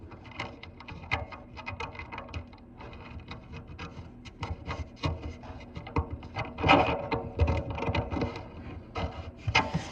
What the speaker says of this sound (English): I'm just twisting the wrench to get it tightened